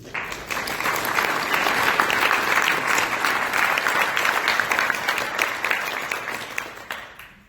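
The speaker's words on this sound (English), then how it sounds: "Let's give our panel another round of applause." An audience at a joint professional meeting applauds a panel, dense sustained clapping from many hands that holds steady for several seconds before fading out at the end, with no clear talk over it.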